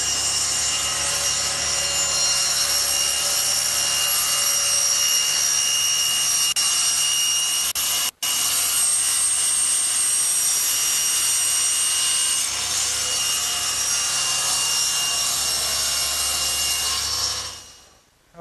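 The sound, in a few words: table saw cutting a slot in wood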